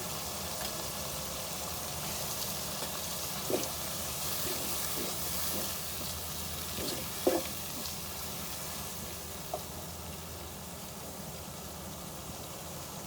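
Garlic and ginger fry in masala for dhaba-style keema with a steady, close sizzle throughout, broken by a few soft clicks and scrapes from stirring.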